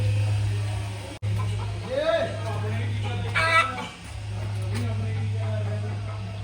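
Hens and a rooster on a farm that also keeps horses cluck and crow faintly over a steady electrical hum, with voices nearby.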